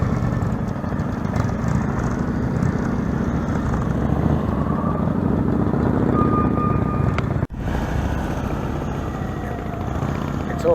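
Motorcycle engine held at steady throttle on a riding-practice course, a continuous loud drone that dips briefly near the end before resuming.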